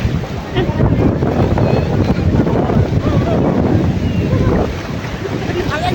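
Sea waves rush and wash continuously at Digha Mohona, a river-mouth beach in West Bengal, loud and close, mixed with heavy wind buffeting the microphone.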